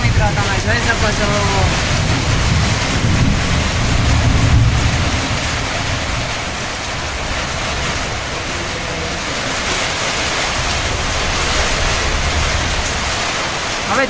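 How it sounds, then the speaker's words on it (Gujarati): Heavy unseasonal pre-monsoon rain in a storm pours down steadily as a dense, even roar that continues for the whole stretch, with voices faintly audible underneath. "ઘડી હવે ખરેખર ચોમાસાનો વરસાદ આવ્યો મિત્રો"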